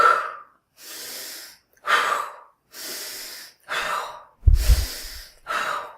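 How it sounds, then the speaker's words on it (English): Deep breathing in a guided exercise, a series of full inhales and exhales alternating in a slow, steady rhythm, close and clear, with breathy airflow and a brief low thump partway through. "you inhale fully and then exhale"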